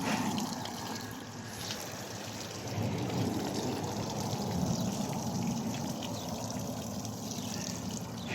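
Steady running water from a hose flushing a Tohatsu 9.9 outboard motor, a continuous broadband rush that holds level throughout with no speech over it.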